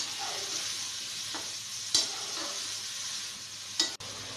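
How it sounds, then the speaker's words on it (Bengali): Thinly sliced eggplant fries in a pan for a mixed small-fish curry with eggplant. It gives a steady, moderate sizzle while being stirred, and two sharp utensil clinks ring out against the pan. "বেগুনটা কষানো হয়ে গেল।"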